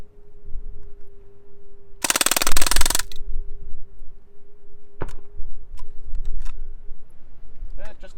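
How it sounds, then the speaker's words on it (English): A Crosman DPMS SBR BB gun firing full auto gives one loud rapid burst of about a second, then a single sharp shot, with faint clicks, a steady background hum and a voice talking quietly. "Gun's struggling in full auto today."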